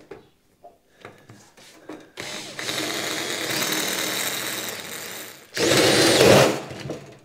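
After a few light knocks, a large hole saw on a cordless drill whirs steadily and loudly, then revs to a harsher, higher-pitched grind as it cuts a car firewall panel.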